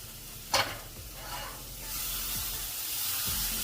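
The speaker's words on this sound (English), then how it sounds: "our caramel apples are starting to cook down in that sugar" Apples cooking down in raw sugar in a skillet for caramel apples: a quiet sizzle and hiss that grows steadily fuller after one sharp clatter near the start, heard alone with no voices.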